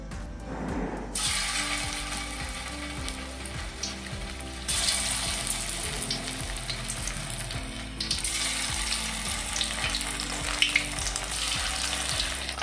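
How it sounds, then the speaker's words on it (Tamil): Paneer pieces sizzle and crackle steadily in hot oil, with occasional faint clicks and surges in the frying noise. "இப்போ ஒவ்வொரு பீஸை தான் நம்ம வந்து பொரிக்கலாம்."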